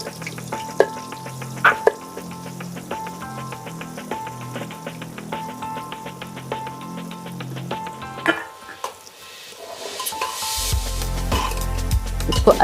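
Onions hit hot oil in a pan for a kareli ki sabzi, sending up a bright, loud sizzle after a stretch of quieter frying with clinks of a spoon and stirring.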